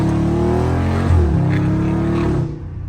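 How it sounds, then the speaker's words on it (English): A Dodge Scat Pack drifts through a turn, its engine roaring loud and steady with a shifting pitch before easing off at the end. "Sliding every turn I make"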